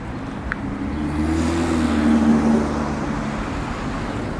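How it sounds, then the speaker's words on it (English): Cars pass along a road, one vehicle's engine swelling up and fading away over a constant traffic rumble, fairly close and loud, with no talk. "Yep, the cars are coming."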